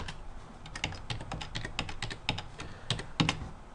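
Fingers typing on a computer keyboard, a quiet, close run of irregular key clicks with a few firmer taps, heard alone.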